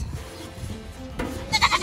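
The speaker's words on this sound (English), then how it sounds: "this goat is stuck in the feeder" A goat stuck in a feeder gives short bleats, with a louder, sharper bleat near the end over quiet background sounds.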